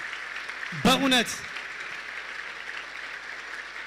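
Faint, steady applause from mourners at a funeral farewell service for a female gospel singer runs through the whole stretch, with a single voice speaking briefly over it early on.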